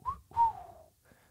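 A person blows a dog-training whistle, giving a short chirp followed by a longer falling tweet, then a faint brief note, close and moderately loud.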